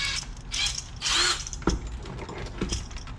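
Cheap standard cylinder hone spun by a drill inside a Honda 300EX engine bore: short bursts of whirring and scraping, with clicks and a knock in between, fairly close.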